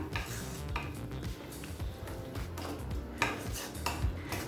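Coriander leaves being sautéed in a pan make a quiet run of irregular metallic clinks and scrapes as a utensil turns them against the metal, with no voices.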